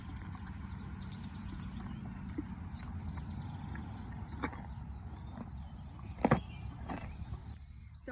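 A horse moves about, with soft irregular hoof knocks and clip-clops over a low rumbling background, fairly near, plus a couple of sharper clatters toward the end and no talk.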